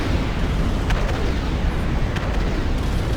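A destroyed dreadnought explodes in the real-time strategy game Ashes of the Singularity, a dense rumbling roar of blasts and crackling detonations that stays loud and sustained throughout.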